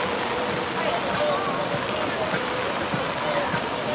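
Heavy typhoon rain pours at night on a street in Shinjuku, a dense, steady hiss of downpour filling the scene throughout, with faint voices and footsteps mixed under the roar.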